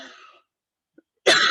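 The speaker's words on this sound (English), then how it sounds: "what a word to cough on" A single sharp cough from a woman reading poetry aloud, loud and close, following a moment of silence after her voice trails off.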